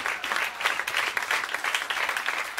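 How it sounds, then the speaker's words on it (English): Steady applause from a studio audience welcoming guests onto a jewelry-world talk show, dense overlapping hand claps sustained evenly throughout with no voices above them. "Hand claps, everyone, hand claps"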